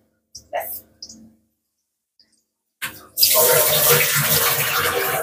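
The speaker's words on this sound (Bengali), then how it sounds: "আগে হাতটা ধুয়ে নিই বাবা" Hands being washed under a running kitchen tap after cooking: a steady, loud rush of water starts partway through and continues to the end, after a few soft clicks and quiet sounds.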